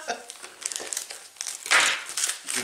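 Gift wrapping paper crinkles and tears as a birthday present is unwrapped up close, with busy rustling throughout and a louder crumpling burst near the end, while people talk in the background.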